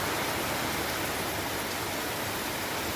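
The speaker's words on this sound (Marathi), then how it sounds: "खूप पाऊस येऊ राहिला" Steady, dense rainfall hisses without a break, a constant wash of drops on surfaces with no voices.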